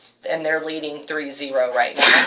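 Someone talks about sports, and then one sudden sneeze bursts out at the end, close and loud, right after his speech.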